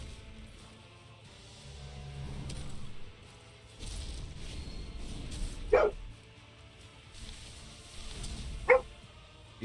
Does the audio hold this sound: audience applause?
no